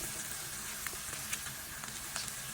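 Thinly sliced onion and garlic sauté in a pan for a salted-shrimp dish, producing a soft, steady sizzle with faint scattered crackles throughout and no voices.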